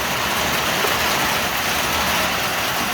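Heavy downpour in a Polish village yard, a dense, loud, unbroken roar of rain pounding surfaces for the whole stretch, with no voices.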